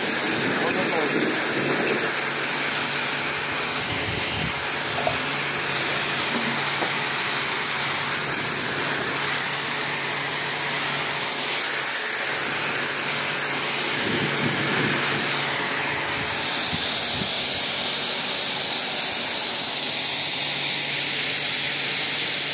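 A Karcher K2.900 100V water-cooled pressure washer sprays water for car washing, a loud, continuous hiss over a steady motor drone that holds unbroken throughout.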